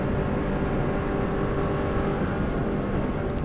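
Subaru WRX STI engine held at full throttle on the Isle of Man TT road course, a dense, steady roar with heavy wind and road noise, loud and constant from start to finish.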